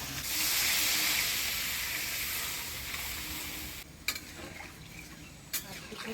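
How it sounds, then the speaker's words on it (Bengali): Water poured onto potatoes frying in spice masala bursts into a loud, steady hissing sizzle that slowly fades, followed by a few faint clinks of a utensil. "মশলার সাথে আলু দিয়ে ভালো করে কষে নিলাম, এবার জল দিয়ে দিই।"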